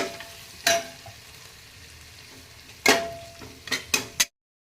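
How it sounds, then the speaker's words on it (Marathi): Masala with garam masala sautéed in a pan for masale bhaat, a low steady sizzle broken by a few sharp spatula scrapes and clinks, close up with no talking before it stops. "आता हे 5 मिनिटं आपण हे परतून घेतले."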